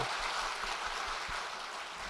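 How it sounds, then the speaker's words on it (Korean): A church congregation at a Korean anniversary Bible conference applauds from the pews, a dense, steady patter of many hands that holds evenly for the whole stretch with no voice on top. "이 시간 흰머리 소녀들에게 한없는 감사의 박수를 보냅시다."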